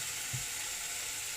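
Onion and garlic fry in hot oil in a home kitchen, a soft, steady hiss of sizzling throughout with a faint low clink near the start, quiet and without talk.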